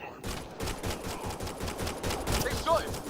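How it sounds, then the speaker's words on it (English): Gunfire in Mass Effect: Andromeda, a burst of rapid repeated shots with a steady rattling rhythm at moderate loudness, voices briefly heard nearby. "They shot him!"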